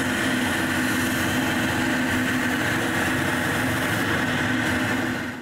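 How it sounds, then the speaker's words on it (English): A wood lathe running while a lamp is polished on it, giving a steady, continuous motor whine and hum, close and even, that fades slightly at the end. "I spread the coat everywhere, start the lathe, and polish the lamp"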